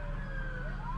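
Police car siren wailing steadily with rising and falling tones, loud and close against a background of traffic rumble, with no talking over it.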